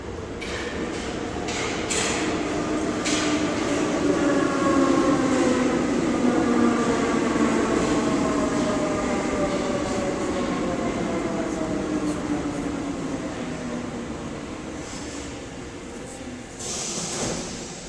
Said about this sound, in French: là je suis donc dans la station de métro